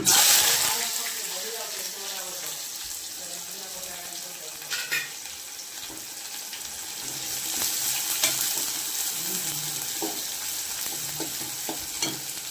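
Sliced onion frying in oil with spluttered mustard seeds, a close steady sizzle with occasional pops and intermittent stirring scrapes, a faint voice briefly audible beneath it.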